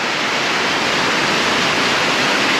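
Water pours steadily into a boat under restoration as a constant broadband rush, close and loud with no break and no speech.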